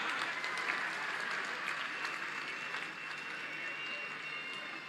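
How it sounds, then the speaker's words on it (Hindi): An audience applauding at an event honouring medal-winning athletes, steady dense clapping that fills the whole stretch at an even level, with a faint murmur of the crowd beneath it. "तो तालियां जोरदार हो जाएं"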